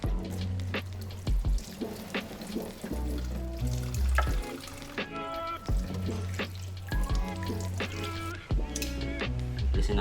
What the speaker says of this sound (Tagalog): Ito, hindi ito masasayang. Prito rin natin to.